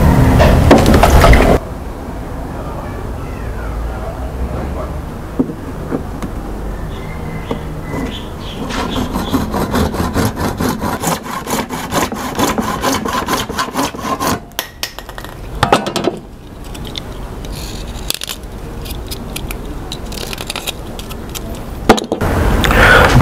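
A plastic tank connector thread for an aquaponics setup is cut with a sawing, rasping rub that starts and stops in irregular bursts over about twenty seconds, close and fairly loud, with clicks and cracks along the way.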